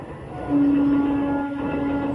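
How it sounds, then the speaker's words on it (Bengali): A Howrah local train rumbles past close by, a steady heavy roar with a sustained tonal hum, no talking. "আবার ট্রেন আসছে, ট্রেন যাচ্ছে সামনে"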